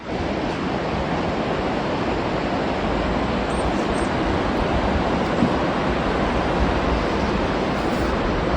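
A Himalayan mountain river rushes past village houses in Chitkul, Himachal, a loud, continuous roar of fast water filling the whole scene, with no voices over it.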